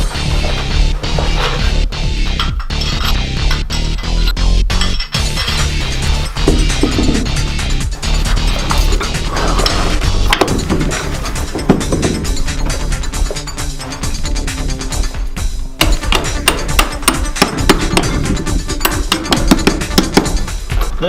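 Metal clanks, taps and clinks from bolting a vise onto a workbench in a small home blacksmith workshop, with dense, loud, close knocking and scraping running throughout and no talk.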